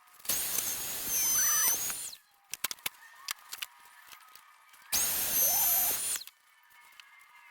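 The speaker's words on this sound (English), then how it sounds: "it's a matter of just sanding the rest down" Two long bursts of a high-pitched power sander whirring against a cracked wooden table top, each about a second and a half, separated by a pause with a few light clicks.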